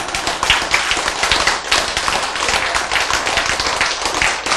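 An audience at a Korean sermon breaks into steady, dense clapping that runs loud and unbroken from start to finish, with no speech over it.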